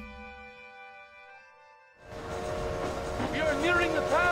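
A train in the Red Dead Redemption video game: after two seconds of near silence with a faint steady tone, a rumbling rolling train sound swells in and grows louder, with whistle-like tones on top.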